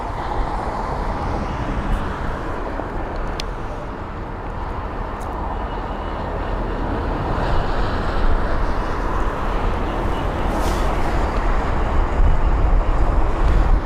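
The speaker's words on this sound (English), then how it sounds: "You can see an aircraft in the background beginning its approach as well." An aircraft on approach to London Heathrow produces a broad, loud roar that swells gradually as it draws nearer, heard outdoors with wind-like rush and no talking.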